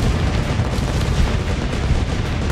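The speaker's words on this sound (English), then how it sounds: "I'm gonna start a bomb run." Bomb-run explosions and artillery-style blasts in a combat strategy video game, a dense, continuous rumble of booms and gunfire filling the whole stretch at steady loudness, with no talking.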